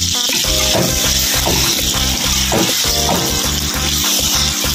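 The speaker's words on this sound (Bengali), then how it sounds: "এবার এটাকে ভালো করে আমি ভেজে নেবো" Ginger, onion, garlic and tomato paste fry in a generous amount of oil, a steady loud sizzle with crackling bursts and the clatter of stirring, no voices.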